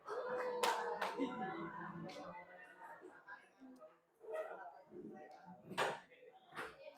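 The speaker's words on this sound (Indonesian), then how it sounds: "berikan tepuk tangan sama teman kalian" Children in a classroom give a short burst of clapping for a classmate, quick uneven claps mixed with a teacher's voice and chatter from the room.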